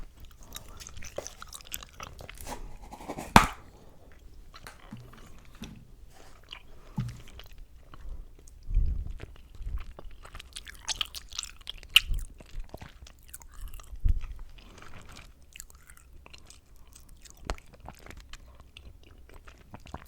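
Chewy candies are chewed close to the microphone in a quiet ASMR setting, with soft, sticky squishes and occasional crisper bites scattered irregularly over twenty seconds; no talking.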